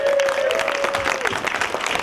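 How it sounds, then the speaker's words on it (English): A panel audience applauds a film executive producer being introduced, loud sustained clapping from many people with a faint tonal hum running underneath. "Round of applause for Karen Loop."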